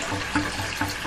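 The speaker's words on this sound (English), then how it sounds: "the water's come out pretty clean" Water draining from the valve of a home hot water heater, a steady broadband rush with faint gurgling surges, fairly close and alone.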